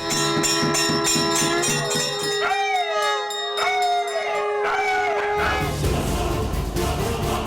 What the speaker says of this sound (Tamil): சங்கொலிக்கு போட்டியிட்டு ஓலமிடும் நாய்கள்